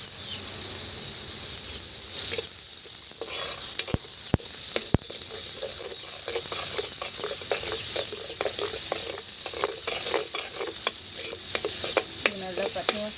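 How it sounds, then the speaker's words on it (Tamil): Ground onion paste frying in hot oil for chilli egg pasta: a steady loud sizzle with repeated scraping stirs and sharp clicks against the pan. "இப்போ வந்து வெங்காயம் அரைச்சி வச்சுருக்கோம்னா அந்த பேஸ்ட்டை போட்டுடலாம்."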